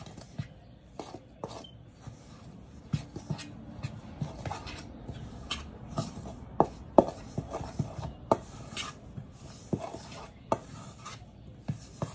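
A spoon mixes corn flour dough in a bowl for dumplings, making irregular close scrapes and soft knocks against the bowl. The sound is quiet and intermittent, with no talking.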